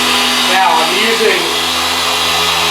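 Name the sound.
car polisher running at speed 6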